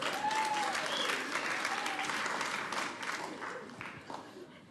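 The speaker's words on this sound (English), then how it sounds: "Round of applause for yourselves, all right." A comedy-show audience applauds, dense clapping filling the room and gradually fading, with a voice briefly audible over it.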